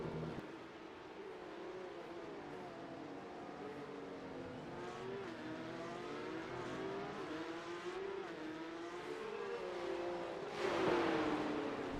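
Porsche Cup race cars in iRacing lapping at Adelaide, a steady layered engine drone with shifting pitch as several cars run close together, swelling louder near the end as one passes nearby.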